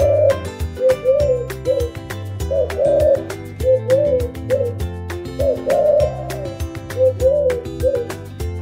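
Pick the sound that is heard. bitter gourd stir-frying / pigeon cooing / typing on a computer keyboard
pigeon cooing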